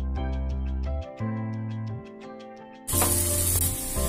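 Snack pieces dropped into melted butter in a hot pan: a sudden, loud hissing sizzle bursts in near the end and continues over background music.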